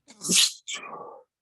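A single close sneeze, a sharp hissing intake and burst followed by a softer trailing exhale, with nothing else around it.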